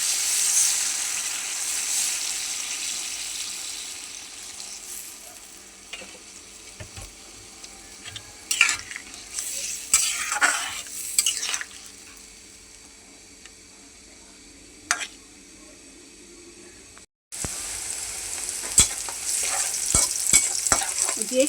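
Hot water added to a pan of braising fish, a steady sizzle and bubbling with stirring and a few sharp spoon scrapes and clinks, a short break, then the boiling hiss resumes, no speech.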